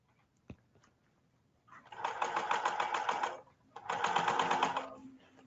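A sewing machine sews a wide zigzag stitch in two fast, buzzing bursts of about one and a half seconds each, separated by a short pause, with a single click before it starts.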